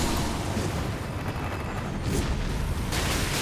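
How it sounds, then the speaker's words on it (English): A large fiery explosion in the Elden Ring video game, heard as a dense, sustained roaring blast that holds steady and loud for several seconds, with no talk over it. "the explosion caught him"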